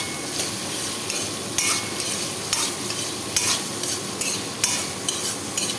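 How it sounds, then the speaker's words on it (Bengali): Cashews fry in a pan for black pepper chicken, a steady close sizzle broken by a stirring scrape or clatter every second or so, with no voices. "এর মধ্যেই কাজুটা দিয়ে আমি ভেজে নেব"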